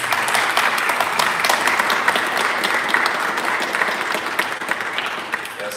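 Audience applause welcoming a guest lecturer to the stage at an evening lecture, a dense steady wash of many hands clapping close and loud, sustained throughout and tapering slightly at the end.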